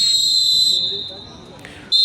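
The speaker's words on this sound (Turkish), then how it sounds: "Hakem son düdüğü çalıyor." A referee blows the final whistle in an amateur football league match, one long, loud, piercing blast followed by a brief second blow at the end.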